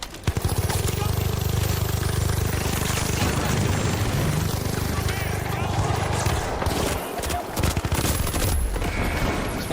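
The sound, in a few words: gunfire from the video game The Finals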